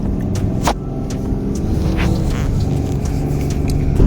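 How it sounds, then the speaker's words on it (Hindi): A car approaching on a winding mountain road near Tawang, heard as a steady, loud engine rumble and hum from inside a moving vehicle, continuous throughout with no talk. "सामने गाड़ी आ गई"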